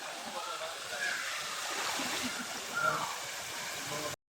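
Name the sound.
water waves at a resort pool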